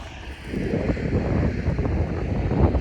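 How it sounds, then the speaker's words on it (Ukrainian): Gusty wind buffets the microphone in a steady low rumble during a soybean harvest, with no voices. "Трішки вітряно сьогодні"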